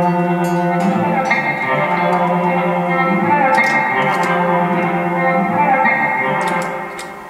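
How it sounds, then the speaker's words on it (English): An electric guitar plays sustained chords and notes through a hall reverb and delay pedal, drenched in spacious reverb and echoing delay, the tails ringing out and fading at the end. "Got the delay tails on there."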